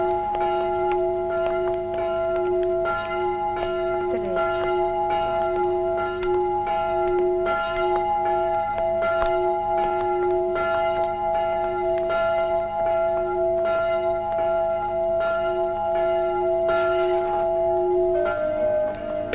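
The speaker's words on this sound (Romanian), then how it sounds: "Clopotele au răsunat solemn. Era dangătul funebru pentru Tom Sawyer și Huckleberry Finn." Church bells toll a slow funeral knell over a chapel scene from a 1968 Romanian Tom Sawyer film, steady ringing tones sustaining and overlapping continuously throughout, loud and near with no voices.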